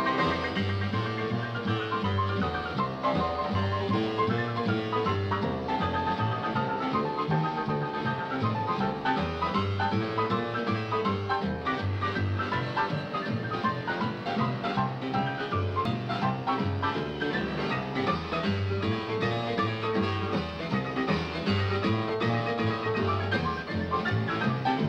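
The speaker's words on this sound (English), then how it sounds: "what you do is to take some combs and just put them across the strings of the piano" Honky-tonk piano with combs laid across its strings plays a continuous, rhythmic piano-roll blues in the New Orleans style, bright and jangly, with a steady bass pattern under busy treble figures and no talking.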